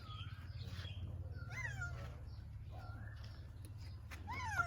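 A pet cat meows repeatedly, several rising and falling calls close by over a low steady hum, one of many cats kept in a home.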